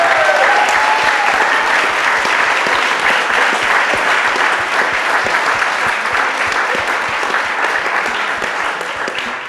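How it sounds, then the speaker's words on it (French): Loud, sustained applause from a large crowd at a panel talk on antispeciesism, dense and steady throughout, tapering slightly toward the end. "qu'on fasse un max d'applaudissements pour leur faire peur,"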